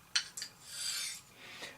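Straight razor honed on a Naniwa Chosera 400 grit stone, a few quiet scraping strokes, two short rasps followed by a longer smooth swish and a faint final stroke.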